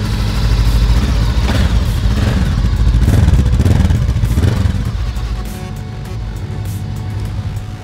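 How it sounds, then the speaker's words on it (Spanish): A Voge motorcycle engine, from a 300cc to 650cc range, runs at close range with a loud, rough rumble that swells and then settles into a steadier idle. "hoy vamos a escuchar su motor, su hermoso motor"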